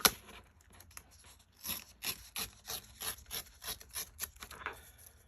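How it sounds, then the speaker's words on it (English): Paper journal tags being ripped by hand, a quick series of short tearing rasps in an uneven rhythm, close and fairly quiet, with no talking. "I need them to be smaller, so I'm going to rip them down."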